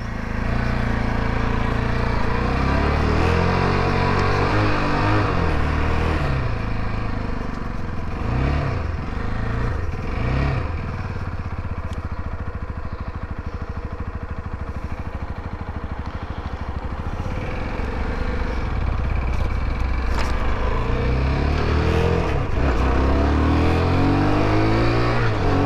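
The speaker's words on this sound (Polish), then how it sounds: "Renegade Freedom 125 zbiera się całkiem nieźle, powiem szczerze, bez żadnych problemów." A UM Renegade Freedom 125 liquid-cooled motorcycle rides and accelerates for a long stretch, its engine droning steadily and loudly up close with rising revs and wind rush throughout.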